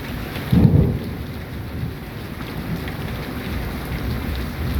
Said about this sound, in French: Il y a eu un orage de grêle.